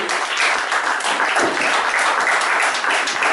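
A church congregation applauds for God during a worship service, a dense, loud burst of clapping that continues steadily throughout.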